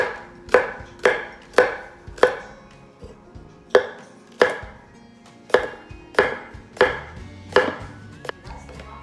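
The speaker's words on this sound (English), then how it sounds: "Take 1 banana pepper and slice it up into any form that you may desire." A knife slices through a banana pepper on a cutting board in about a dozen crisp, evenly spaced thuds, close and clear with nothing else heard.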